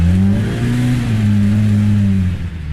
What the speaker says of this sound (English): The engine roar is unmistakable.